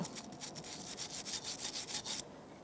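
Quick, rhythmic scraping strokes of sandpaper on a rusty rear brake part of a Toyota RAV4, close and crisp, repeating steadily for a couple of seconds before stopping.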